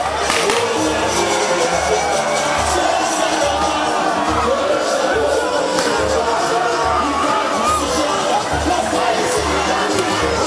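Dense, steady crowd noise of cheers and shouts at a carnival costume-group contest in Rio, loud and continuous with children's voices mixed in, confetti and balloons among the cheering fans.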